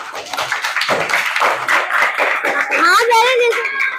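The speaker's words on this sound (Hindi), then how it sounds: "ताली बजा दो अपने लिए।" Children in a classroom clap their hands together in a quick scattered patter, with chatter and a teacher's voice over the clapping.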